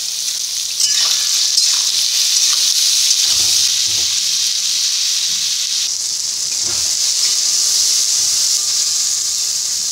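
Soybeans fry in a pan with salt, turmeric, sugar and a little chili powder, giving a loud, steady, continuous sizzle up close, with occasional soft stirring scrapes underneath.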